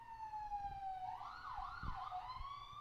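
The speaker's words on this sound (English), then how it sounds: "yeah, I love the sirens" Emergency sirens wail in the background, a clear tone sweeping down before breaking into a faster rising and falling yelp, moderately faint, with low rumbles and thumps underneath.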